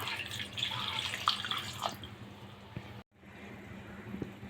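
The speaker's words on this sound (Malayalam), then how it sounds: "ഇനി ഇതിലേക്ക് മാങ്ങ വേവാൻ ആവശ്യമുള്ള വെള്ളം ഒഴിച്ചു കൊടുക്കാം" Water is poured into a pot of ripe mango with turmeric for a Kerala-style pulisseri curry, giving a soft, close splash for about two seconds that fades into faint drips and a quiet kitchen.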